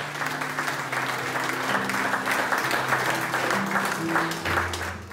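A church congregation cheers and claps together, a steady wash of applause and shouts lasting several seconds, with voices rising through it.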